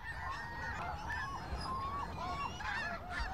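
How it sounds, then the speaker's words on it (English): A dense flock of snow geese coming in to land, honking continuously, many overlapping calls rising and falling over a steady rushing background. "Snow geese coming in for a landing."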